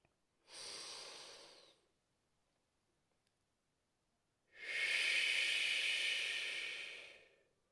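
Slow, deep breathing during a guided meditation: a soft inhale followed by a pause, then a longer, louder airy exhale. Both breaths are close and heard alone.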